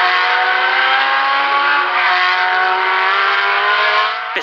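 Racing engines of Matra and Ferrari cars at the 1973 Le Mans 24 Hours roar steadily and loudly for the whole stretch, a sustained high-pitched wail that fades slightly near the end.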